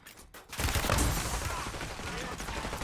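Revolver gunfire in a video game: a sharp shot at the start followed by sustained dense crackling gunfire, loud and close, with a voice talking faintly underneath.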